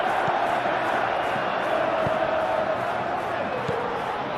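Football stadium crowd during a Galatasaray vs Liverpool Champions League last-16 first leg, a steady, loud roar of many voices with faint cheers and chants rising throughout.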